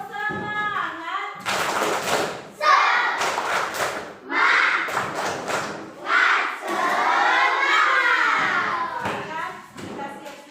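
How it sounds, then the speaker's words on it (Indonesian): Schoolchildren in a classroom chant together in loud, rhythmic bursts with clapping and shouted syllables, the group pausing briefly between phrases. "Yuk, tepuk semangat."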